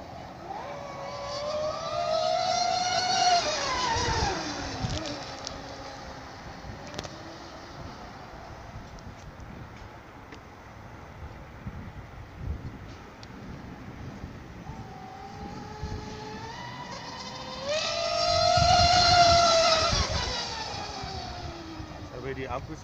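An MHZ Mystic 114 radio-controlled model airplane flies at full throttle, its electric motor whine rising and falling twice as it passes close by, with quieter stretches between the passes and light outdoor background noise.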